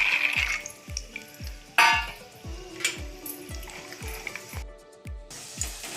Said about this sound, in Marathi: शेंगदाणे आपण तळून घेऊया।